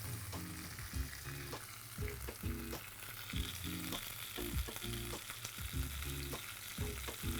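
A tomahawk pork chop sears fat side down in a hot pan with a faint, steady sizzle and a regular series of soft knocks and scrapes from pressing and moving the meat, with no voices.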